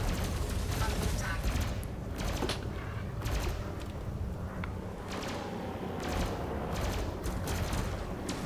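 Rapid weapon fire during space combat in the game Elite: Dangerous, flying an Imperial Eagle: dense repeated bursts of shots with mechanical clatter, loud and continuous throughout, while someone talks over it.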